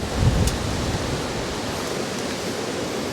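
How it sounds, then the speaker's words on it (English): Wind gusting across an Australian bee yard, a broad steady rush that swells louder early and then holds as a continuous roar, with no voices. "Big gust of wind's about to come on us."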